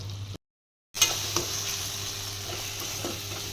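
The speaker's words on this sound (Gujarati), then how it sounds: "હવે એને હલાવી લઈએ થોડી વાર માટે એને ચડવા દઈએ સોફ્ટ થાય ત્યાં સુધી" Tomatoes and chilli are stirred as they cook in a pan. A brief silence gives way to a constant close sizzle with a few scraping stir strokes, and no talking.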